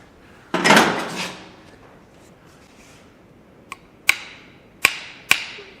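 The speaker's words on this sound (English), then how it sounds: "I'll have to probably tap it with a hammer" A hammer taps a pin into a steering U-joint on a Massey Ferguson 1725 tractor: one scraping, rattling knock, then four sharp metallic taps spaced about a second apart, close and alone.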